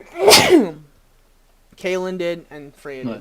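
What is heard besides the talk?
sneeze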